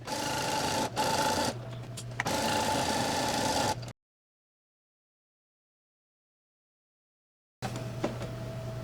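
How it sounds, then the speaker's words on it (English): A sewing machine stitching fabric for a headband runs in steady whirring bursts with brief pauses and a click. It cuts to silence for several seconds, then resumes humming, close and clear. "keep sewing all the way to the end"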